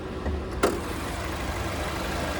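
A 2026 Chevy Traverse LT AWD with a 2.5-liter turbocharged four-cylinder idles steadily, heard up close from the engine bay as a constant even hum with a faint click near the start.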